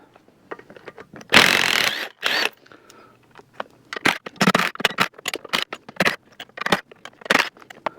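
Wrench or socket working loose bolts on an NP231 transfer case during disassembly, giving repeated close metallic clicks and ratcheting with brief louder clanks and handling noise, and no talking.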